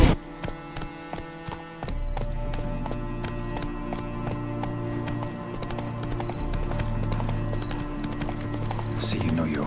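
Hooves of Roach, Geralt's horse in The Witcher 3: Hearts of Stone, clip-clop at a steady walking rhythm behind game music, with character voices talking over the steps.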